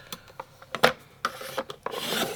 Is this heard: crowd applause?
no